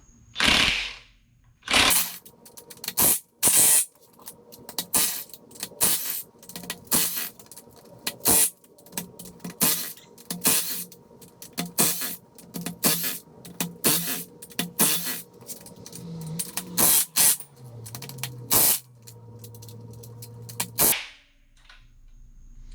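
Pneumatic impact wrench hammering at the star-pattern head bolts of a 1JZGTE engine, loosening them in repeated loud rattling bursts of a second or two with short pauses between, close and alone, ending with a brief hiss.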